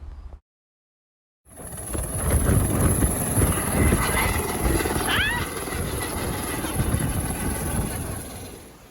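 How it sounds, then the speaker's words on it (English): A whale watching helicopter flies overhead near Kaikoura, New Zealand, its steady rotor and engine drone loud and continuous after a brief silence at the start. "We were joined by a whale watching helicopter."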